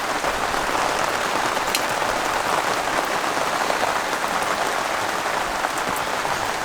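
Heavy rain pours down on a sailboat at anchor, a dense, steady roar of drops drumming the deck and water without pause, close and loud, with no voices.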